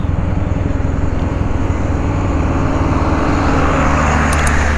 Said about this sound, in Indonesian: Wah, ini truk nanjak.